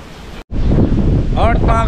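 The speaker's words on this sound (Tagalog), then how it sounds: "malakas na ang hangin" Strong wind ahead of a typhoon batters the microphone with loud, continuous rumbling gusts and a brief dropout near the start, and a voice is briefly heard toward the end.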